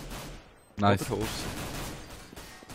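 Gunfire in the video game CS:GO: one sharp, loud shot bursts out mid-clip, followed by a lower rumble, with people talking over the game audio.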